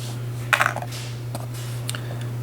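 Small metal gun parts, a sear, sear spring and ejector, drop out onto a hard surface with a few light clinking taps, a quick cluster followed by a couple of faint separate ticks over a steady low hum.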